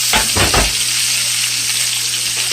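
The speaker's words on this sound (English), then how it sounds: "we're going to saute it a little bit in that butter" Food sautéing in butter in a pan, a veal dinner with squash, onions and green beans, giving a steady loud sizzle throughout with a few stirring scrapes near the start.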